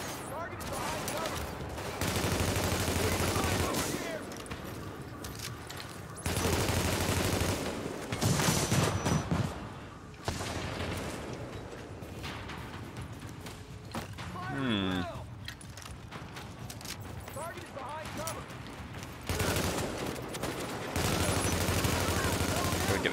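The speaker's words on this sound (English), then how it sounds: "Keep shooting." Gunfire in the shooter game The Division, sustained bursts of automatic fire and rattling volleys in loud stretches, broken by brief lulls with voices speaking.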